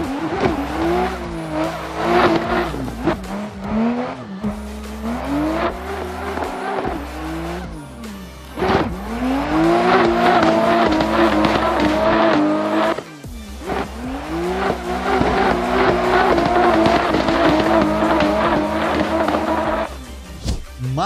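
A Mazda RX-8 drifts in Assetto Corsa, its rotary engine revving high and fluttering as revs rise and fall, with tire squeal running through most of the passage and brief drops between slides.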